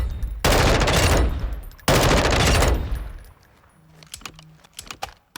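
A DMR4 V7 rifle firing on a practice range in Call of Duty Modern Warfare II: two long, loud, dense bursts of rapid shots, followed by a quieter stretch of scattered clicks and mechanical handling noises.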